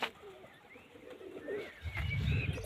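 Pigeons coo nearby in a loose series of soft, throaty calls, with a low rumbling burst toward the end and no speech.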